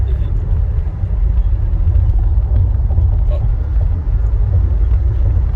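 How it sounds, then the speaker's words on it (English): Heavy road traffic heard from inside a vehicle, a loud, steady low rumble of engines and tires with a voice speaking over it. "that's some serious traffic"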